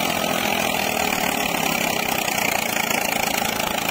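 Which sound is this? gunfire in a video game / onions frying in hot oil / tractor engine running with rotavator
tractor engine running with rotavator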